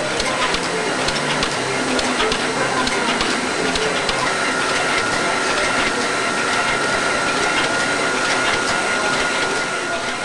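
An automated screen printing machine lays successive UV-cured paint colour layers onto CDs, giving a steady, dense mechanical whir with faint rapid ticking and clatter throughout, close and continuous, with no speech.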